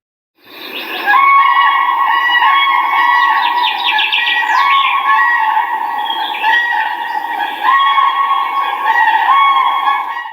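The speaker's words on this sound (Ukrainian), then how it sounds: "Щойно ви почули і побачили журавлів." A flock of cranes calling continuously, with rolling trumpeting notes and higher chirps layered over a busy chorus; no talking.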